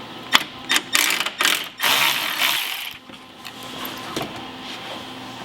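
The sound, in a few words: removing 8mm bolts on a BMW E36 headlight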